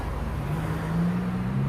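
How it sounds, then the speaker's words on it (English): Cars going by on a road, a continuous low rumble of passing traffic with a steady engine drone rising slightly, heard alone without voices. "have cars going by"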